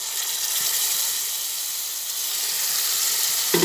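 Whisked sour yogurt hits hot oil with spices, giving a loud, steady sizzle and steamy hiss that holds evenly throughout with no one speaking.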